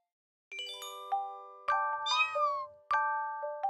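A cat meows several times in a cartoon scene, each call bright and tonal with clear harmonics, sounding close and alone with no talk, mixed with chiming, bell-like tones.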